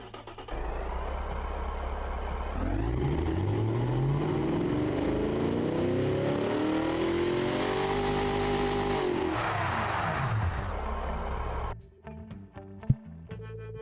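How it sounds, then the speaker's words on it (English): A simulated car engine in BeamNG, a mid-luxury car of about 227 horsepower, revs up steadily, holds a high whining drone and then winds back down before cutting off, loud and alone. "Let's listen to this engine"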